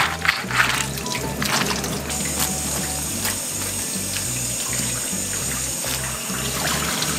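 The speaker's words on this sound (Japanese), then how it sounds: "ほな、洗っていきます。" Freshly caught oarfish being washed under running water at a sink: a steady splashing, trickling stream continues throughout, with small clinks and thumps from handling.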